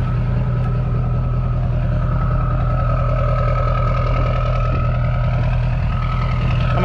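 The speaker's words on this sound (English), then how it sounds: "Have to turn that truck off because it's so damn loud." A truck engine idles loudly and steadily up close, a constant low rumble with no talking, beside a Buick dealership where a Pontiac GTP was dropped off.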